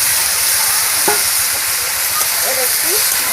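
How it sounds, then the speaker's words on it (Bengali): Vegetables fry with a bit of added water in a pan for a singi fish cumin curry, giving a constant close sizzle with brief stirring scrapes and utensil knocks throughout. "এর একটু নেড়ে নিব, ভালো করে নেড়ে"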